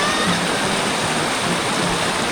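Steady broadband rush of a river stream flowing at a riverside eco campsite beside rice fields, continuous and fairly loud with no voices over it.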